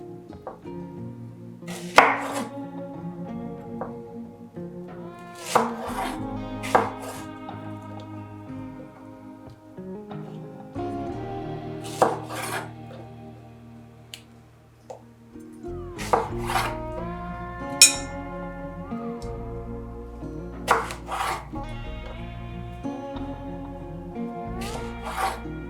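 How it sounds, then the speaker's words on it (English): A kitchen knife slices fresh peaches for a peach cobbler, with a few sharp cuts spaced irregularly and partly masked by steady background music. "Begin by washing and slicing the peaches, then place them into a mixing bowl."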